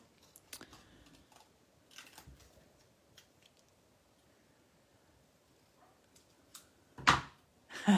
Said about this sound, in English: And here comes the scissors.